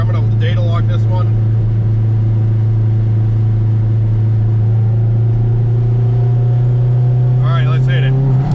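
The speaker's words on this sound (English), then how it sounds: "here's a second gear roll. I'll get it lit up here." An AWD K-swap turbocharged Honda Civic doing a second-gear roll, its engine droning loud and steady with a strong low hum that climbs slightly, close and continuous.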